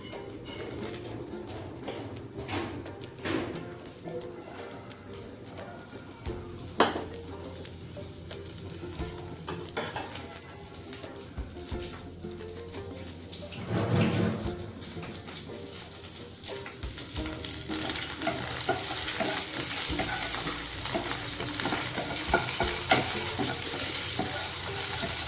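Dried red chillies and five-spice tempering sizzle in hot oil as a continuous close hiss, with scattered pops and stirring knocks that grow louder and denser toward the end, and no speech.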